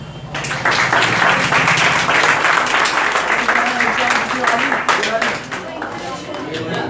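An audience at a New Year celebration function claps steadily and loudly for several seconds before a girl's performance, many hands in a continuous dense patter with faint voices underneath.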